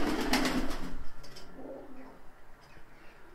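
Altuni-colored Miro breed pigeons coo softly in a few low, rolling calls at close range, fading into quieter rustling near the end.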